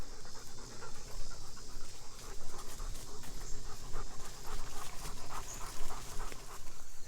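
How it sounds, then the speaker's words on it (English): Several dogs out on a morning walk pant steadily and quickly for the whole stretch, close to the microphone, with rustling and footsteps mixed in. "We're going to take a few of the dogs out for a walk."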